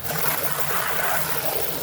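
Well water pours steadily into a garden container, a continuous trickling, splashing stream, close and even in level, with no talk.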